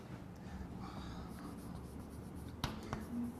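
A marker or chalk scratches out handwriting on a board during a physics lesson, with soft continuous strokes and a couple of sharp taps near the end, close by and without speech.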